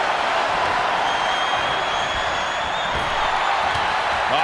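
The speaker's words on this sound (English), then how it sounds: "With every move you make, you hear this capacity crowd following you on that journey" A capacity arena crowd in the WWE 2K24 video game roars steadily throughout a last man standing match, a dense, continuous wash of cheering.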